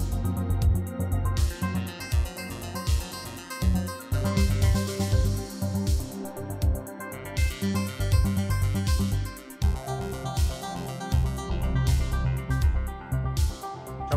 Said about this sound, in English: So I'm gonna bring that up a bit so you can hear the lead running in the background.